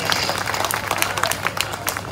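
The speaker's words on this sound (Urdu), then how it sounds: "آپ تالیاں بجا کے مجھے بتائیے گا" A mushaira audience claps, a brief patter of scattered applause with voices talking over it.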